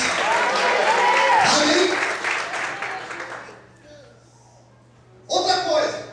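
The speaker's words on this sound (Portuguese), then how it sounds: "Mais aplausos, aleluia!" Church congregation applauding during a service: a loud burst of clapping and cheering fades under a preacher's voice, then a fresh burst of applause returns near the end.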